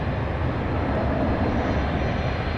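An MD-11 airliner backing out at DFW Airport at night gives a steady, heavy engine rumble, broad and constant, with no break.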